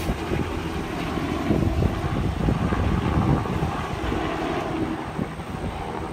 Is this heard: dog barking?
no